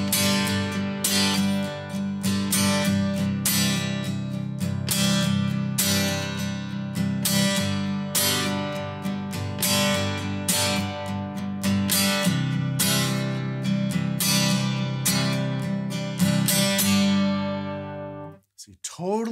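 Acoustic guitar strums a rhythm pattern accenting beat two and the and of four, crisp regular strokes at steady loudness, closing with a brief noisy scrape at the end.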